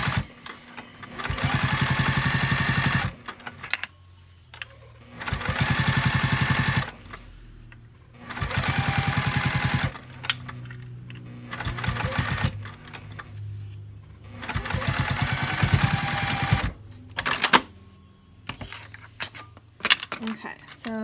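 A sewing machine top stitches a flat-seam wristlet strap in several steady whirring runs of a few seconds each, separated by short pauses, close and loud.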